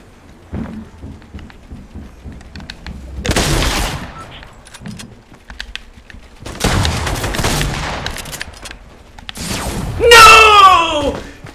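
Fortnite gunfire comes in bursts, heavy volleys around a few seconds apart with quieter scattered shots between, mixed with faint game noise and some talking.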